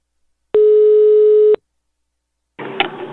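Telephone line tone heard while placing a call: one steady one-second beep, then silence, then a brief burst of another line sound.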